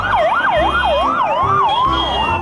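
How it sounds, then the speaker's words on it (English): A toy ambulance sounds its siren, a loud, close, electronic wail that rises and falls in quick repeating cycles, playing alone without talk. "this is a ambulance car"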